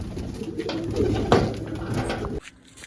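Pigeons being fed grain and water coo in a low, steady stream with light rustling, loud and near, until the sound drops away abruptly near the end.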